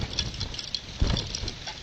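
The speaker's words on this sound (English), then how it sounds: "Rain and wind picking up again" Rain and wind from Hurricane Matthew at Myrtle Beach: a continuous broadband wash of rain patter and gusting air, fairly close and steady with a brief louder gust midway, no voices.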